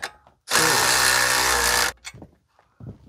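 A wrench works on a steering stabilizer bracket on a Ford Super Duty truck, giving one loud sustained mechanical burst of about a second and a half, followed by short clicks and brief voices nearby.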